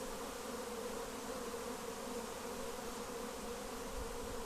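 Swarm of honeybees buzzing densely and continuously around a beehive, a steady close drone with no voices.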